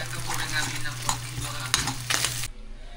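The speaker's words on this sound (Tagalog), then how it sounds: "Ginisa ko lang sa sibuyas. Tapos lalagyan ko ng egg." Egg sautéing with onion in a pan gives a steady close sizzle and frying crackle, with a few stirring scrapes and utensil clicks before the sound drops away near the end.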